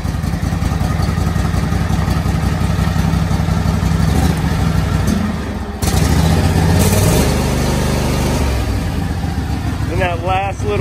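A small engine with a manual choke and throttle runs with a steady, close mechanical clatter and drone that shifts in pitch partway through.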